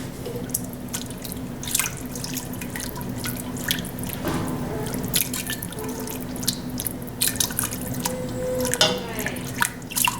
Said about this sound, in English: We'll keep stirring this around, adding the milk little bit by little bit.